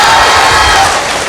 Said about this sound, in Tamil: ஒரு பெரிய கரகோஷம் கொடுத்து வாழ்த்து